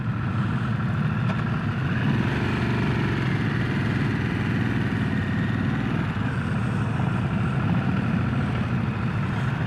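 A 2025 Harley-Davidson Sportster S motorcycle engine idles at a dealership, with a loud, close, steady low rumble that continues throughout.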